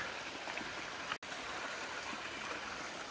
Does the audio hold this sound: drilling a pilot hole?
no